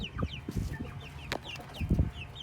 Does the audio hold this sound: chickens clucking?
yes